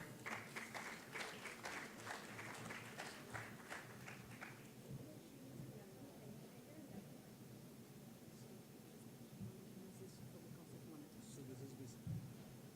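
An audience at a corporate convention in 2013 applauds a speaker coming on stage; a faint, distant patter of clapping fades out after a few seconds, leaving quiet room noise with murmuring voices.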